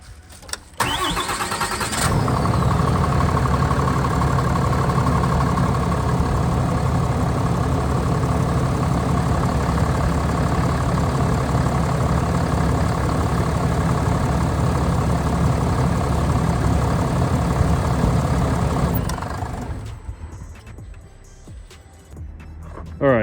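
A Ram 3500 with the 6.7 Cummins diesel cranks and fires up, then settles into a loud, steady idle that runs for about seventeen seconds before shutting off and going quiet.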